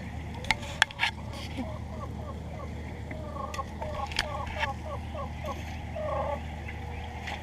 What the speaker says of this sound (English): It's the sound of happy hens.